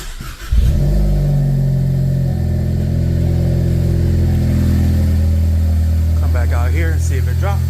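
A Ford Focus ST with an EcoBoost engine cranks briefly and catches, then settles into a loud, steady run close by, with a voice talking over it near the end.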